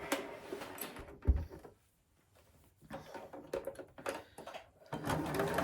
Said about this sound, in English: And then I'm going to stitch along this side and this side.